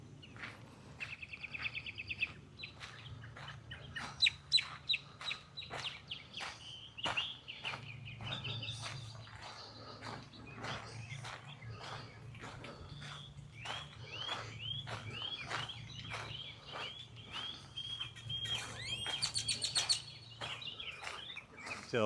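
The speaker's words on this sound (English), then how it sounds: "especially mockingbirds and other birds in the area while we're walking" Mockingbirds and other birds sing steadily through a quiet neighborhood during a walk, with many sharp repeated chirps and varied phrases at close and middle distance over a faint low hum.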